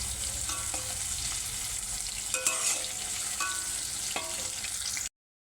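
Potatoes fry in a pan, a soft steady sizzle with intermittent spatula stirs and light metallic clinks, close and alone, ending abruptly in silence.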